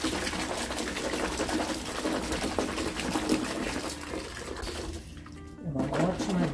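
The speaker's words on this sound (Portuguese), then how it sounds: "agora eu vou colocar a água" Water poured onto white laundry dosed with a little alcohol vinegar, a steady full rushing splash running close and continuous for several seconds before briefly easing, with no talk.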